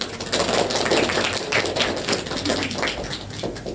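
A classroom of students claps together at a university trigonometry lesson, a dense, steady patter of many hands lasting several seconds at even loudness, close and filling the room.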